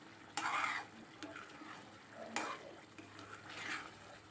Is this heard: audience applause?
no